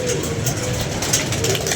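Pigeons cooing softly at a pigeon loft, a steady low murmur of several birds close by, continuous with busy background noise throughout.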